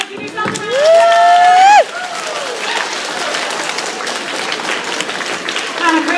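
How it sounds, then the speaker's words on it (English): An audience claps after a Seussical story performance, bright and close, with a sustained whistle-like tone over the start and some voices and cheering mixed into the steady applause. "All right, give yourself a round of applause."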